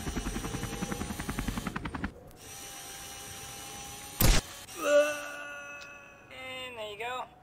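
A mini helicopter in The Henry Stickmin Collection video game gives a rapid, rhythmic chopping flutter for about two seconds. A sharp burst and a voice talking follow.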